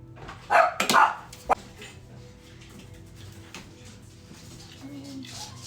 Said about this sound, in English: My kids just got home and the dog is going nuts.